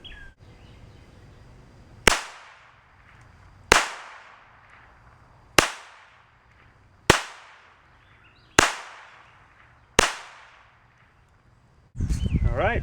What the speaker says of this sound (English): Shot all 6.